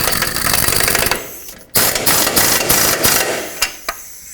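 A wrench tightens the front nut of the steering rack on a 2005-2010 Pontiac G6, giving close, loud metallic ratcheting clicks in bursts with a brief pause and a couple of sharp final knocks.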